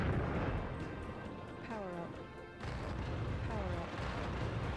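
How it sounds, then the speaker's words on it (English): A tank destroys a building in the N64 game BattleTanx, heavy booming blasts and crumbling rumble with sharp whistling streaks, a loud dense wash that briefly thins midway. "we're blowing up the building to somehow claim a person inside of it"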